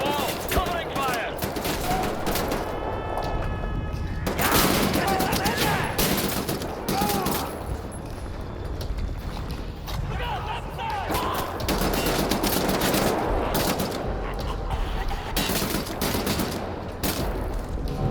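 Covering gunfire erupts in the Wolfenstein The New Order video game: continuous heavy fusillades with rapid machine-gun bursts and crashing impacts go on without a break, loud and close, with shouted voices mixed into the chaos.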